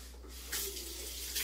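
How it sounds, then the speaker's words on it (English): A pan is washed under a running kitchen tap, a close, steady stream of water with brighter splashing bursts where the pan meets the flow, over a constant low hum. "Let me wash my pan."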